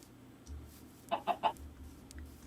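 Chickens in the video game Minecraft give three quick, close clucks in a row, with a softer cluck earlier, against a quiet background.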